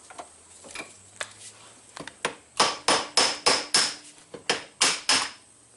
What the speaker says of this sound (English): I just take a hammer and smack this cup right here